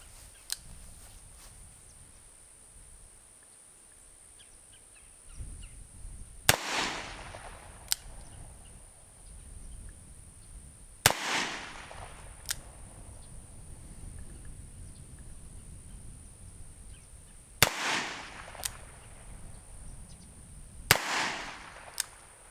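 Colt Official Police revolver fired single action outdoors, five sharp gunshots spaced several seconds apart, each with a ringing tail, over quiet background noise.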